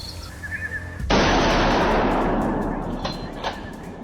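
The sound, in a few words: hunter's gunshot at wild boar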